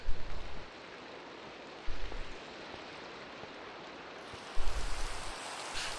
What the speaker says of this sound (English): Still raining out.